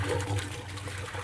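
City-pressure water rushes through the hoses of a flush cart on a Carrier/Bryant variable-speed water flow control system, a steady, fairly quiet gushing and sloshing flow with no pauses.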